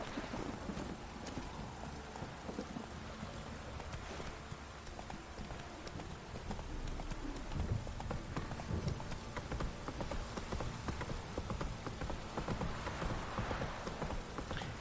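Roach, the horse from The Witcher 3: Wild Hunt, gallops with rapid, continuous hoof clip-clops under a dense rain-and-wind game ambience, loud and close throughout, with no speech.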